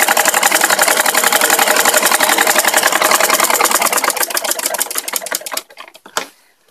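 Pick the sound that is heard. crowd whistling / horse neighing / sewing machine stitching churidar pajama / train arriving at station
sewing machine stitching churidar pajama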